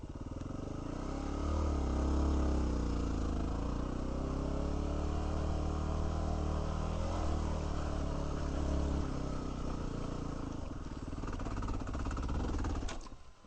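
An off-road motorcycle engine drones close on a mountain trail with the clutch slipping, holding a steady, loud labouring note that rises and falls slightly as revs change, ending with a brief clatter.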